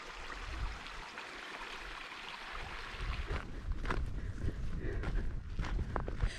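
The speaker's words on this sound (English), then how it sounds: "that sound of bubbling water is really hard to beat" A stream bubbles and gurgles steadily close by on the Ullswater Way in the Lake District, with footsteps crunching along a path, growing busier in the second half.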